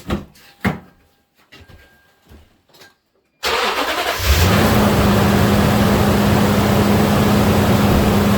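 Toyota Tundra with a 5.7 engine, after a few clicks and knocks the starter cranks briefly, the engine catches and then settles into a loud, steady idle nearby.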